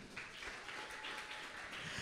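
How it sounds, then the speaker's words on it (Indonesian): Faint, distant applause rises briefly from an audience at SMP Negeri 102 Jakarta Timur for the school committee chairman, a soft wash of clapping with no voices heard. "tepuk tangan"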